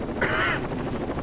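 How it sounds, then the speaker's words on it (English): Combat helicopter in the video game Rainbow Six Vegas 2, a brief loud rotor and engine burst standing alone for about a second without talk. "they have a combat chopper here."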